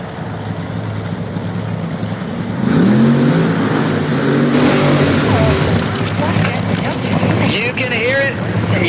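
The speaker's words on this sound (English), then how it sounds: "You can hear it, you can smell it, you can feel it. The zombie nitro Hemi" A loud, roaring nitro Hemi funny car engine at a drag strip revs up and down in rising pitch sweeps, with heavy wind rumble and crowd noise around it.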